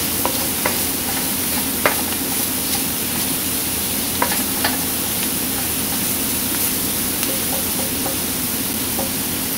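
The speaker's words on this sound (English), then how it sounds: "saute the garlic a little bit so that you can release the flavor" Garlic sautés in a pan, giving a steady dense sizzle broken by occasional light clicks and scrapes as it is stirred, fairly quiet and with no voices.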